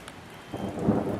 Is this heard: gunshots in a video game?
no